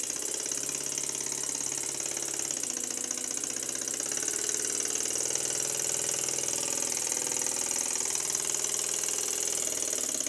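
A small Stuart model steam engine runs in a workshop with a steady, even mechanical chuffing and hum that continues throughout, alongside a constant hiss, without any voices.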